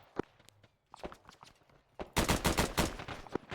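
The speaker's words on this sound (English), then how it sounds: "they're in an extreme gunfight as far as I can hear over the radio" Arma 3 gunfire crackles in scattered single shots during urban combat, then breaks into a dense rapid burst of automatic fire, fairly close and sharp.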